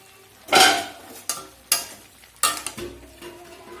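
Pumpkin greens cook in a pan, stirred with a utensil in several distinct scraping clatters at irregular intervals, close and fairly loud over a faint background.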